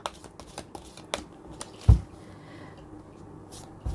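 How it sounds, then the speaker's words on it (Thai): Tarot cards are shuffled up close in a series of light, crisp flicks and taps, with one duller thump partway through. "ขออนุญาตสับไพ่เปิดดวงให้กับชาวราศีมีนคนมีคู่นะคะ"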